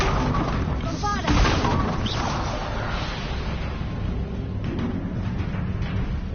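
Bombarda blasting spell from Hogwarts Legacy, a single sharp whooshing blast followed by a rumbling boom that tails into steady ambient noise.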